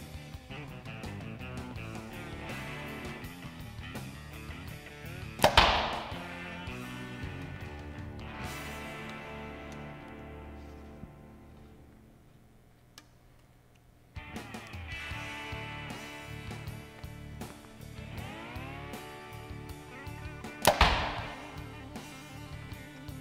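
Two sharp, short thuds of a 2017 PSE Carbon Air 34 compound bow releasing arrows, spaced well apart, each followed by a quiet ringing decay over faint background noise.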